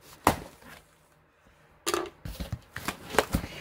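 Packing tape tugged off a heavily taped cardboard box holding a yarn haul comes in sharp ripping bursts: one near the start, then a pause, then a rapid string of rips and crinkles close by.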